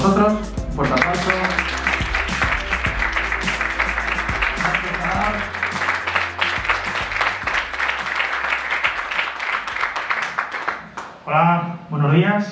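Audience at a bonsai demonstration event breaking into loud applause, dense sustained clapping filling most of the stretch before fading, with a voice speaking briefly at the end.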